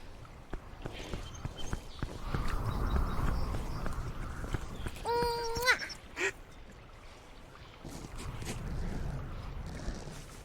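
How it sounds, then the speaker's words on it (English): A cartoon duck in the point-and-click adventure game Return to Monkey Island quacks loudly once, a short honking call, over light game ambience with scattered knocks and footstep-like taps. "I want to feed the duck!"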